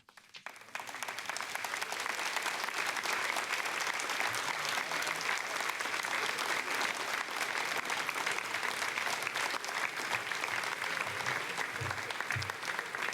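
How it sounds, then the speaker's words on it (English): Steady applause from people gathered to watch the Ariane 5 launch of the Telkom 3S satellite, building quickly in the first second and then holding as a continuous, fairly distant wash of clapping to the end. "So the final good news and the applause from the people here in Jupiter."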